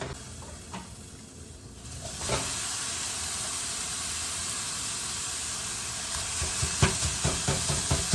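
Drained ground beef returned to a hot pan, a loud continuous sizzle and hiss building after a quieter start, with occasional scraping stirs near the end and no talking.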